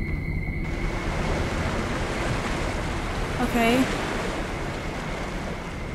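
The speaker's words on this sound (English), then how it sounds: "Why that waterfall-ish sound?" A rushing, waterfall-like water sound plays steadily in the horror video game Among The Sleep, a broad continuous roar with a brief rising tonal sweep near the middle, while a voice speaks briefly over it.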